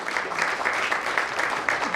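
Audience applause at a doctor-patient network event, a steady dense patter of many hands clapping, moderately loud and continuous throughout with no talk over it.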